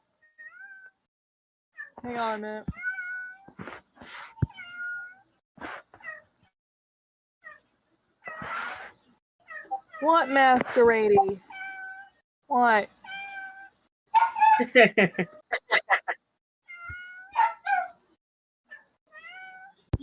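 A pet cat named Masquerade meows repeatedly at home, a series of distinct near cries with pauses between them, while a person speaks briefly to her in between.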